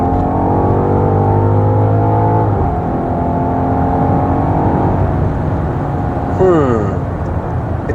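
A BMW XM G09 SUV accelerates hard, its engine droning loud and close from inside the cabin with a rising whine and a shift partway through, under steady road noise.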